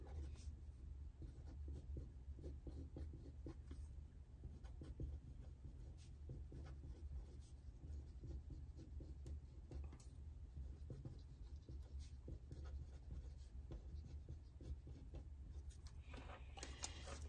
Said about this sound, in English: Now that we have Jane Doe and John Doe on the paper facing each other